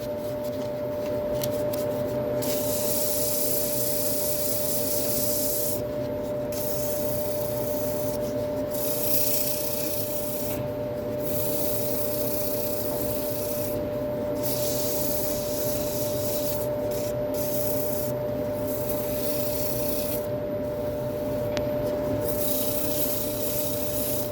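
Sandpaper rubbing against a spalted poplar bowl on a lathe, a continuous scratchy hiss over a steady motor hum, with brief pauses between sanding passes.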